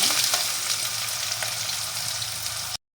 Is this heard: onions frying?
yes